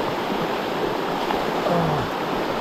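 Rushing water of river rapids fills the scene as a steady, close broadband roar with no pauses, while a boat is worked upstream against the current on a barramundi fishing trip.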